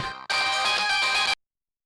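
A mobile phone ringtone plays a bright electronic melody for about a second after a brief opening tone, then cuts off into silence.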